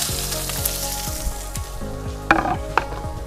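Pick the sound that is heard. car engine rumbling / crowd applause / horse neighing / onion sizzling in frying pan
onion sizzling in frying pan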